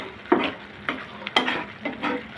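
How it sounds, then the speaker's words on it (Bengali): Stirring four green chilies into mustard hilsa curry frying in a pan, several spaced scrapes and stirs over a soft sizzle, close and fairly quiet. "এই পর্যায়ে দিয়ে দেব আমি 4টা কাঁচামরিচ। ভালো করে নাড়িয়ে নিব।"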